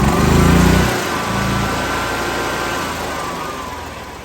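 Gas engine of an EZGO EFI golf cart running with its air intake covered, a loud close rough drone that dips and stumbles early, then settles into a steady, slightly wavering idle.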